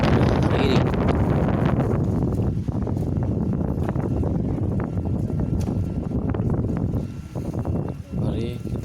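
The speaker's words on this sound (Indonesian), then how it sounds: "guncangan yang diakibatkan oleh angin yang cukup kencang pada hari ini" Strong wind buffeting a microphone near the lava dome of Mount Merapi, a loud continuous roaring rumble with gusty swells, while a voice talks over it.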